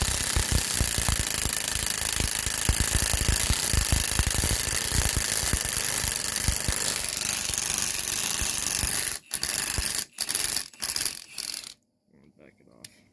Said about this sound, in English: I'll crank her down some more.